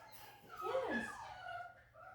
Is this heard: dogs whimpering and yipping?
yes